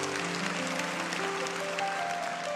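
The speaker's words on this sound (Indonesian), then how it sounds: "Kasih tepuk tangan untuk Tuhan." A church congregation applauds at a sermon, a steady wash of clapping running throughout, with music or sustained tones underneath.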